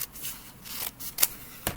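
Scissors snip through folded paper in a few short, crisp cuts with quiet pauses between, close and faint, no voices.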